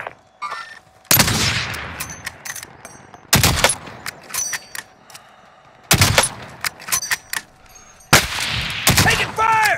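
Gunfire in a military video game: several loud, close bursts of shots and machine-gun fire separated by short quieter gaps, with radio chatter and callouts in between.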